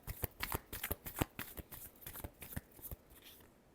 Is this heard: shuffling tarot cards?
yes